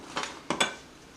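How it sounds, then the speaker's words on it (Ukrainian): A thick-bottomed saucepan is handled for making caramel, clinking and knocking twice in a short metallic clatter, close and fairly quiet. "Я беру каструльку з товстим дном."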